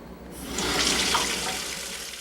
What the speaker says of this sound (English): Can he turn on the water?